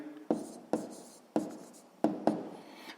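Numbers written by hand for a sixth-grade maths exercise: five quick scratchy pen strokes in an uneven rhythm, close and quiet, with no voice over them.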